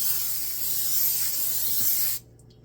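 Pam butter-flavor cooking spray hisses in one steady, close burst for about two seconds while greasing a pan, then cuts off sharply into quiet.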